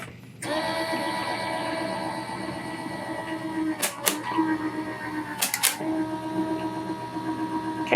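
A brand-new Gemini II die-cutting machine runs with a steady, moderate motor hum and whir, interrupted by a few sharp mechanical clacks partway through.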